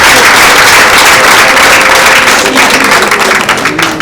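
Audience applause at a Rwandan gathering: a dense, steady wash of many hands clapping, loud and close throughout, thinning slightly toward the end.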